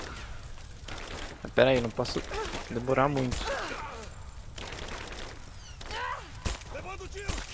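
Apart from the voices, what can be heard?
gunfire in Rise of the Tomb Raider video game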